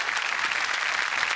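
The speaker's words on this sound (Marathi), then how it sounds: "जोरदार टाळ्या सरांसाठी." Audience at a Marathi comedy stage show claps in dense, steady applause that fills the whole moment, close and even.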